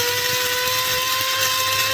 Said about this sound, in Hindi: तो इस ब्लेंडर में मैं क्या करूँगी, ये चावल डाल दूंगी